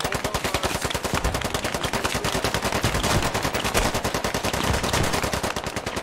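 Sustained automatic gunfire from a Squad firefight, rapid dense bursts of shots rattling continuously for the whole stretch, loud and close with no pauses.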